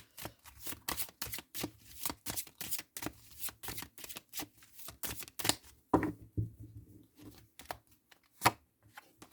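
Oracle cards shuffled by hand up close: rapid riffling flutters and soft slaps in a steady run, with a brief pause midway and a sharp tap near the end.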